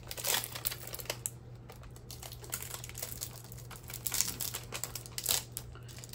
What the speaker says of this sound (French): je suis en train d'enlever le plastique